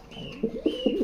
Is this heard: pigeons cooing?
yes